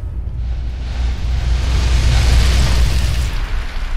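A grenade blows up in the video game Fallout: New Vegas, a loud, sustained booming roar with deep rumble that holds steady for several seconds without a break.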